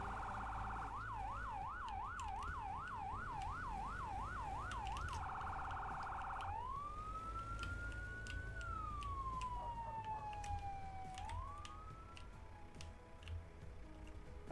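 A fire engine siren in a firefighting video game wails in a fast warbling yelp, then switches to a slow rising and falling wail, moderately loud over engine rumble and ticking game sounds.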